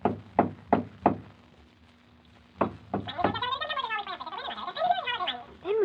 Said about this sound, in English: he jumped onto the door knocker and swung back and forth on it.